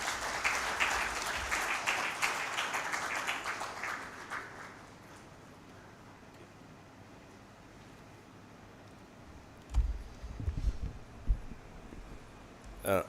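Applause at a Ugandan launch event greets a minister coming up to speak, strongest at first and fading after a few seconds, followed by quieter room noise and a few louder bumps near the end.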